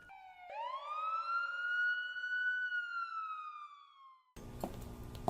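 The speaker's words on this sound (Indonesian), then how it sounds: "terdengar suara sirene polisi yang menuju ke arah rumahnya" A police car siren wails in one long rising-then-slowly-falling sweep, loud and clear with no voices, before cutting abruptly to a different noisy ambience near the end.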